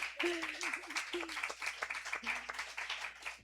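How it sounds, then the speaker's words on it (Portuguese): Audience applause at a literary festival session, soft, steady clapping heard at a distance beneath a voice that keeps speaking over it. "Uma salva de palmas para ela."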